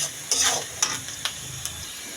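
Onions and bay leaves sizzle in a pan as they are stirred, giving a close, bright hiss broken by a few quick scraping strokes.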